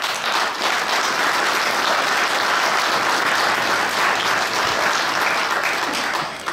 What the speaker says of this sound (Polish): Dziękuję bardzo za te oklaski,